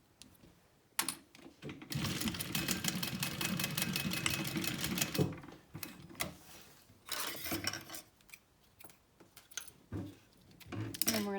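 A sewing machine stitches a zipper seam on a small backpack, running in rapid mechanical bursts of needle clatter separated by pauses, close and fairly quiet.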